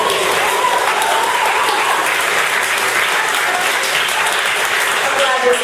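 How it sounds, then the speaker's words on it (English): An audience applauds at a candidate introduction event, a dense, loud and sustained wash of clapping that holds steady throughout. "I'm glad you're starting with a round of applause there."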